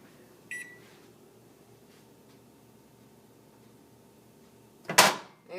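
Kitchen oven timer being set after the door closes: a short electronic beep early on, then quiet appliance hum, and a louder clunk-like burst near the end, close by.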